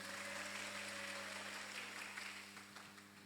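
An audience at a school talk show at SMAN 2 Batu applauds, a faint, steady patter of clapping over a low background hum that gradually thins toward the end.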